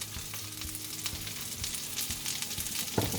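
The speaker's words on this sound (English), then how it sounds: "Now we add the mushrooms and saute it. Now we add the garlic" Mushrooms and garlic sautéing in a pan for a creamy Parmesan chicken dish, giving a steady close sizzle with a few soft stirring knocks and no talking.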